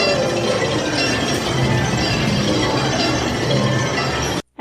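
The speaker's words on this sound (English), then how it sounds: "It's the sound of the It's a Small World clock starting to go off for the 15-minute or hour chime" Chiming from the It's a Small World clock in Disney's Fantasyland, a dense bright metallic clinking and whirring blended with park crowd noise, sustained and fairly loud before cutting off abruptly near the end.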